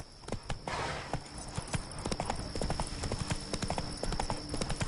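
Roach the horse trots in The Witcher 3, with steady, rhythmic clip-clop hoofbeats, close and fairly loud, alongside faint ambient game sounds.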